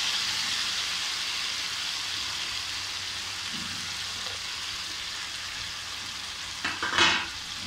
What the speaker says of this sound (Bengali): ম্যারিনেট করে রাখা যে মশলাগুলো চিকেনের মধ্যে ছিল সবই তেলের মধ্যে দিয়ে দেবো।